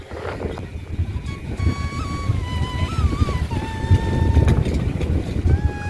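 A boat on the Krishna river with a steady low engine rumble and wind buffeting the microphone, with a faint tone drifting over the top throughout.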